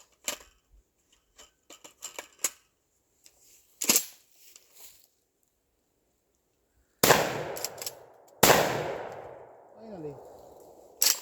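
Civet 12 shotgun shells fired at an outdoor range: two loud, sharp blasts a second and a half apart, each trailing a long noisy decay, after scattered clicks and mechanical handling sounds of loading.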